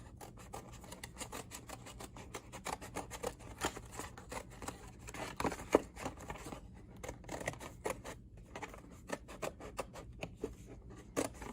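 Repeated crisp snips and rasping cuts of scissors through paper, steady and close, with no voices.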